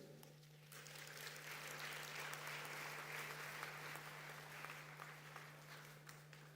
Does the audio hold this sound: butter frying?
no